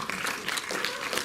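Audience applause at a French film preview screening, a steady wash of clapping from a modest crowd, moderately loud and continuous with a faint voice underneath.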